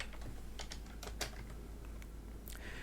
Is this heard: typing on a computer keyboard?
yes